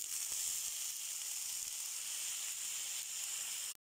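Onion, red chili and garlic sauté in a home kitchen pan with a soft, even sizzle that runs steadily and then cuts off abruptly near the end.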